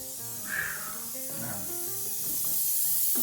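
An air hose hisses in a hydraulics shop, a steady broad hiss rising slightly over a few seconds, mixed with faint tonal hums, clanks and background voices.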